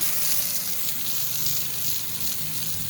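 Water sprays and rinses algae off cement in a steady, close hiss with a faint low rumble, brief and without speech.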